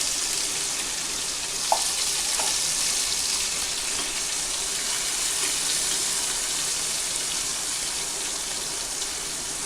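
A gunda pickle mixture with turmeric and salt cooks in a pan, giving off a steady broad hiss of frying, with a couple of faint clinks early on.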